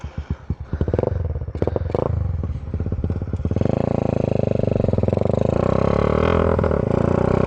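A modified Honda Wave 100 underbone motorcycle being ridden, starting with a few sharp sputtering revs, then settling into a loud, close, steady buzzing engine drone as it gets under way.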